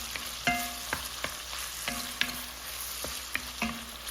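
Conecuh smoked sausage browns in a pan with a steady sizzle, broken by several sharp scrapes and clinks of a utensil stirring at irregular intervals, close and moderately loud, with no one talking.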